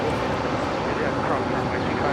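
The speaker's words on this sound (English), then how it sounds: "That was Delta 799 departing to Minneapolis on an A321." A Delta Airbus A321 airliner departs Los Angeles International Airport with a continuous, loud, broad jet roar that holds steady throughout.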